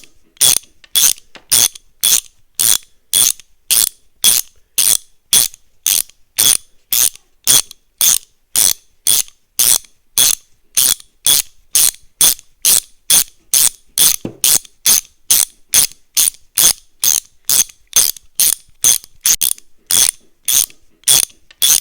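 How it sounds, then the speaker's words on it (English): A hand ratchet clicks in a fast, even series of dozens of sharp strokes while tightening the bolts on a small block Chevy short water pump and alternator bracket, close up and with no talking. "Finally, we installed the belt and verified that all the bolts were tight."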